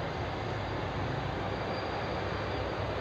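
A commuter train bound for Ilha do Bispo and Santa Rita rolls past a bus terminal in João Pessoa, Brazil, giving a steady, fairly loud broadband rumble that holds evenly through the whole stretch with no voices.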